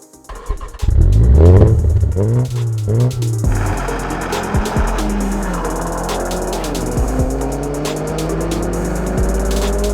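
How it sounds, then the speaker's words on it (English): A Mini GP2 tarmac rally car engine revs hard and loud, rising and falling in pitch before settling into a sustained high drone, with a raspy close-up roar throughout. "driving a Mini GP2 tarmac rally car"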